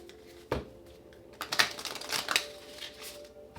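Tarot cards shuffled by hand in a couple of quick riffling bursts, a short rustle near the start and a longer flurry of papery flicks in the middle, close and fairly quiet against a faint steady hum.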